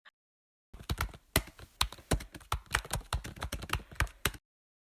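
Numbers being typed into an Excel sheet on a computer keyboard, a quick, slightly uneven run of crisp close key clicks after a brief pause, then silence, with no voices.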